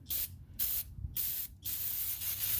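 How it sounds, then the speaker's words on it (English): Aerosol brake cleaner sprayed onto new front brake rotors during a brake upgrade on a 1997-2005 GM W-body car, in four sharp hissing bursts with short gaps between, loud and close. "you need to get your whatever brand brake cleaner you like to use and do a quick"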